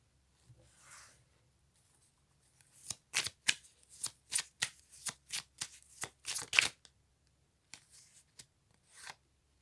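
Tarot cards being shuffled by hand, a quiet rustle followed by a rapid run of crisp riffling snaps, close and alone with no talk.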